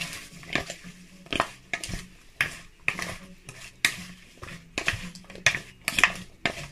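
Thai apple som tum salad being mixed in a bowl, a run of rhythmic knocks and clatters from a utensil against the dish, repeated about a dozen times, close and crisp.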